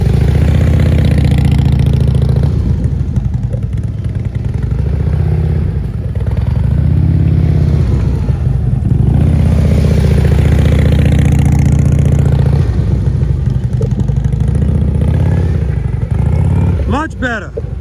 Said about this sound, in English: I'm glad that Eric's exhaust is loud, because we can all hear when his throttle is too low